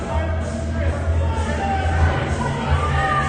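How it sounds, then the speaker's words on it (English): A Rogers hockey crowd at an ice rink roars loudly and steadily after a tripping penalty, a dense wash of shouting and babble that fills the arena without a break for a few seconds, with no clear talk standing out. "the Rogers crowd getting extremely vocal"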